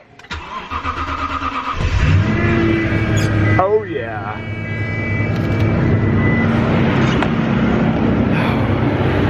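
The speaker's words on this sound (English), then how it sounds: "Have you ever heard a vehicle start when it's 15 and below out?" A truck engine cranks roughly in freezing cold, 15 degrees and below, then catches and settles into a loud, steady idle; someone speaks briefly over it.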